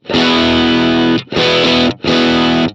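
An overdriven electric guitar chord through a Pettyjohn Electronics Chime MKII overdrive in LED clipping mode, played three times in quick succession, bright and fairly open, with brief gaps between the strums.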